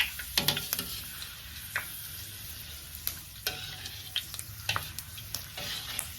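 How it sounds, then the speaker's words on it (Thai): Sliced pandan leaves fry in hot oil in a pan, a steady close sizzle broken by frequent sharp clicks and taps as they are stirred, with no talking. "เราจะใส่ใบเตยลงไปทอดก่อน เพื่อทำให้น้ำมันของเรามีกลิ่นหอมของใบ"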